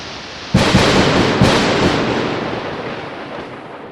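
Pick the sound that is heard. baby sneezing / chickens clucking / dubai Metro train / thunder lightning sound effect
thunder lightning sound effect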